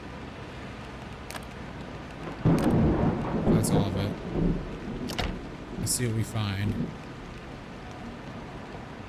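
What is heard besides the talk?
rain and thunder in video game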